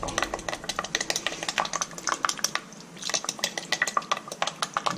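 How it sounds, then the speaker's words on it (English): A spoon stirs caramel pork with fish sauce in a pot, brisk repeated scraping and clinking strokes against the metal, close and steady, with a soft sizzle underneath. "So we'll just give that a stir around."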